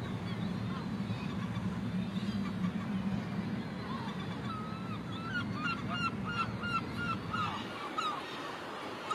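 A colony of guillemot seabirds calling at the Cap Fréhel cliffs, a steady low growling murmur of many birds with sharper repeated calls rising toward the end, heard from a moderate distance.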